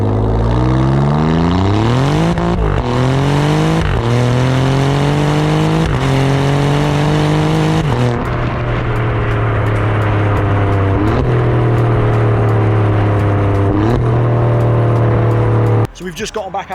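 An Alfa Romeo Giulia QV accelerates hard through the gears, its engine climbing in repeated rising pulls broken by short gear-change dips, loud and close from inside the cabin throughout before cutting off abruptly near the end.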